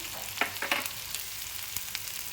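Onion and capsicum sautéing in hot oil in a home kitchen, stirred a few times, with a steady close hiss carrying brief scraping stir clicks early on and no talk.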